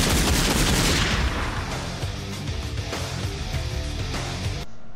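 A burst of rapid gunfire fills the closing moments of the film's ending, loud and close, with dense cracking shots over a low rumble that thins into scattered pops before cutting off abruptly.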